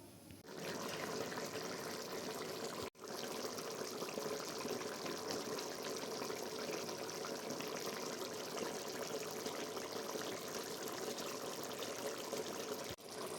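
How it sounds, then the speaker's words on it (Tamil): Butter bean and potato milk curry, salted, simmering in a pot with a steady broadband bubbling that runs unbroken and fairly loud, with two very brief dropouts and no talking. "அப்படியே கொதித்து வரட்டும்"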